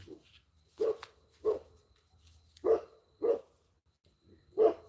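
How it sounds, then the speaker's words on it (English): Coyotes on a farm at night: about six short, sharp barking yips in an irregular series, moderately distant, with quiet stretches between them. "I don't know if y'all can hear all the coyotes"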